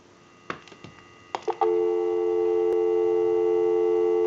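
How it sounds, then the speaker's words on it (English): A Stromberg candlestick telephone, converted for a modern line, gives a few clicks and knocks as the line is picked up. Then a loud, steady dial tone sets in and holds to the end. "Go ahead and give you some dial tone."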